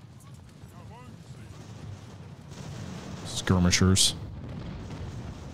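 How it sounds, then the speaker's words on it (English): Sail-era cannon artillery booms in the naval strategy game Ultimate Admiral: Age of Sail as a short cluster of loud blasts over a constant battle din, with someone talking over the noise. "Friendly fire from my cannons?"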